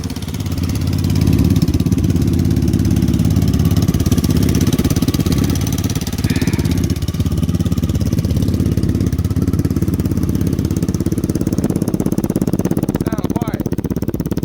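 A Lifan KP Mini motorcycle engine runs steadily on a build stand, a loud continuous mid-pitched idle with a lumpy, slightly uneven chug throughout.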